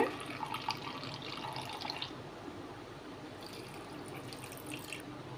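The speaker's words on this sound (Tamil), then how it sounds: "இது ரெண்டையுமே சுடு தண்ணி ஊற்றிடுங்க" Hot water is poured over ajwain seeds and a lump of asafoetida in a kitchen. Two faint splashing pours are heard, one at the start and another after a short pause, with a quiet room between them.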